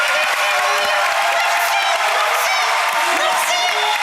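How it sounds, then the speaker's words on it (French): Loud applause and cheering from a talent show audience in France, a thick continuous roar of clapping with scattered shouts and whoops, close and full throughout. "Applaudissez, applaudissez."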